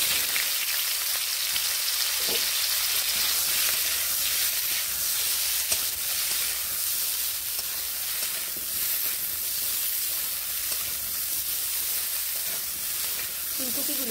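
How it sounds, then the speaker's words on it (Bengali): Cauliflower fries in oil in a wok with a steady, close hiss and crackle, like light rain, that holds evenly throughout with no talking. "কড়াইতে আরও একটুখানি তেল দিয়ে নিয়ে এবার আমি ফুলকপিগুলোকে এখানে দিয়ে নিচ্ছি।"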